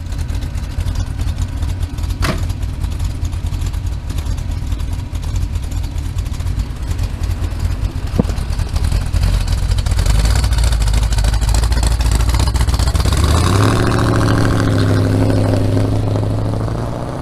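A C3 Corvette with a swapped engine idles steadily, then revs up louder and pulls away on its first test drive, engine drone rising in pitch near the end.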